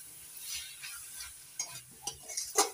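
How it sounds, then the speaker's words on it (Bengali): Taro greens with stalks are stirred with sugar in a pan, giving soft, faint scraping and light sizzling, with a few sharper clinks of a utensil against the pan near the end. "চিনিটা শাকের সঙ্গে ভালো করে নাড়াচাড়া করে মিশিয়ে নেব"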